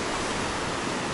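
Ocean waves on the rugged Galician coast near Muxía, where barnacle gatherers work the rocks: a loud, steady, broadband wash of surf filling the whole moment with no pauses.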